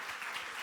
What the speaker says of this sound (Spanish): yo diría que por educación un aplauso